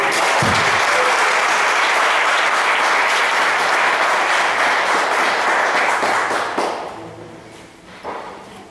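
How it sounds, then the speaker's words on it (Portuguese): A congregation claps inside a chapel during a Catholic prayer group meeting. The applause is loud and sustained, then tapers off near the end, leaving a few stray sounds. "vamos aplaudir o Senhor"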